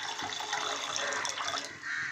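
Water splashes steadily into a cooking pot for about two seconds while cooking sago for bottle gourd payasam, a continuous close pour with no talking.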